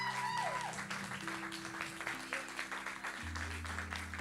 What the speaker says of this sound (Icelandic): gefa þessum snillingum gott klapp